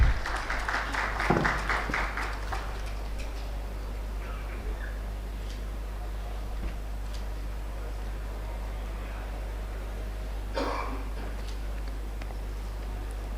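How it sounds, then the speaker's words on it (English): An audience at a railway expo event gives a brief round of clapping that fades after a couple of seconds. The hall then stays quiet under a steady hum, with another short burst of clapping near the end. "Can we please have a big round of applause"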